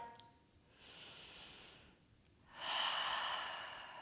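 During a gentle hip and leg stretching yoga session, a person takes slow, deep breaths up close, first a soft inhale, then a pause, then a longer, louder exhale.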